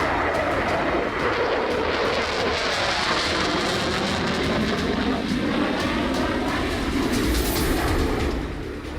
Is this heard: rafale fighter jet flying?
yes